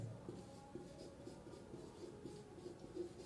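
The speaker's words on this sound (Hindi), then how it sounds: "मैं लिख रहा हूं" Writing on a board during a Hindi grammar lesson, a quiet run of soft, regular scratching strokes close by with no talking over it.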